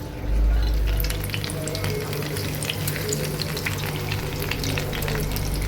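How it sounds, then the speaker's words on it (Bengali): Pointed gourd (potol) frying in hot oil in a home kitchen, a steady close sizzle with faint crackles and some low rumbling under it, no talk. "আর এখানে তেল গরম করতেছি, তার কারণ হচ্ছে আমি এই পটলগুলো এখন ভাজবো।"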